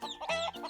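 A voice imitates a farm hen's single short clucking bawk, close and clear, with a brief broken rhythm.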